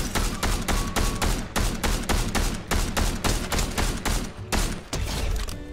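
Rapid gunfire from the video game Fortnite, a dense nonstop barrage of loud shots in quick rhythmic succession filling the whole stretch.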